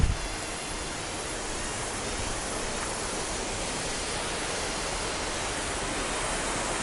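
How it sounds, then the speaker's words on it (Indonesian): Small waterfall at an eco retreat in Bali, a continuous broadband rush of falling water, steady and close, with no voices over it. "Karena ada fasilitas nature, yaitu air terjun kecil, ya."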